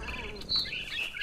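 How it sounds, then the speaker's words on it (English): A barn swallow in the video game What Remains of Edith Finch gives a few short, high chirps and tweets over a faint background, quiet and close. "Then I heard chirping outside my window. It was a barn swallow going back to her nest."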